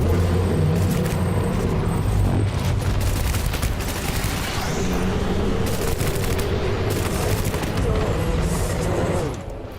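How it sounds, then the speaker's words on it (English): Rockets striking an enemy in Death Stranding, a loud continuous barrage of blasts and rattling fire with rumbling booms, heavy and close, ending abruptly, while someone talks over the din. "you keep hitting him in the face with rockets"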